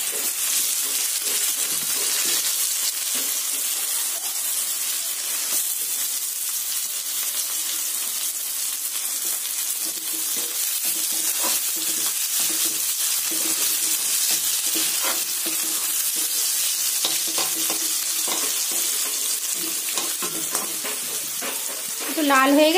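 Garlic and onion sizzle in hot oil in a wok, a loud continuous frying hiss with repeated stirring scrapes, heard up close with no talking.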